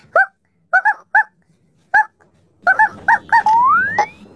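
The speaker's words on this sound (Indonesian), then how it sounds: "ada suara guguk tuh" A series of short, sharp dog barks and yelps at an irregular pace, ending in a rising whine over faint background noise.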